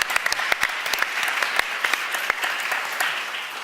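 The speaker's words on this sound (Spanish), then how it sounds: "Yo también quiero aplaudir a este señor." An audience at a public debate applauds, with sharp individual claps standing out over a dense, steady clatter of hands throughout.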